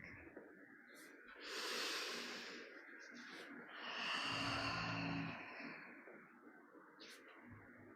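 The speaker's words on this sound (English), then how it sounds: "Inhaling forwards, exhaling back." Slow, audible yoga breathing: two long, breathy swells of inhaling and exhaling rise and fade over quiet room hiss, close to the microphone and without talk.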